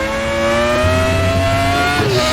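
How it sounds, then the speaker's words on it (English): A Formula 1 car accelerating hard during a lap, its engine note a loud, continuous high-pitched whine climbing steadily in pitch, heard close from onboard with a brief shift near the end and no voices. "The sheer acceleration of this car is insane."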